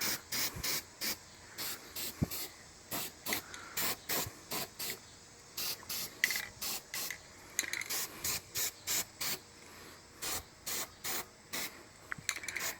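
Short bursts of rust converter sprayed from a can onto a 1979 GMC C15 pickup's bent, rotten radiator support: a rhythmic series of close hissing spritzes, each about half a second, with brief pauses between.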